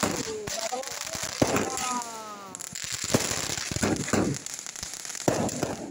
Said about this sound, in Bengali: ওই দেখো দেখতে পাচ্ছ দূরে, দেখো কি সুন্দর সেল ফাটাচ্ছে